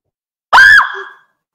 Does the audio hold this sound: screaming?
yes